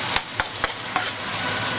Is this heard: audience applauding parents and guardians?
no